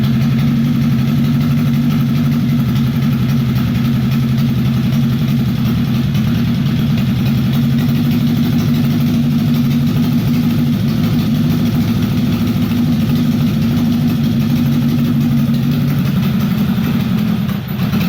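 Honda CB750 motorcycle engine idling steadily just after starting, a loud, close, continuous low rumble with an even throb that holds for the whole stretch, no voices over it.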